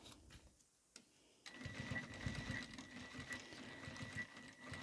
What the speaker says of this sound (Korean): 그래서 이렇게 박음질 해주고,